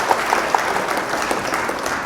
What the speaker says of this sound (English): wait for the applause to die down